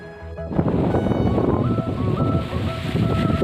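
Strong wind buffets the microphone in a steady, rumbling roar, loud and close, with no voices.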